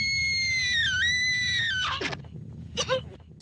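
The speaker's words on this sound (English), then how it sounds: "Scream into the camera a little more." An actor screams straight into a camera on a horror film set, a loud, sustained, high-pitched wail lasting nearly two seconds, followed by shorter, breathier cries.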